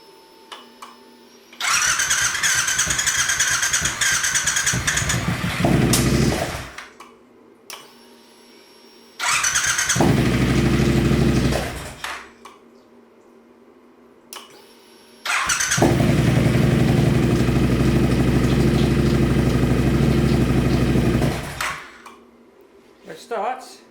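A Triumph Bobber motorcycle, fitted with a swapped high-power engine, fires up in three separate bursts: a roaring run of about five seconds, a short three-second run, then a longer steady idle before it cuts out, loud and close.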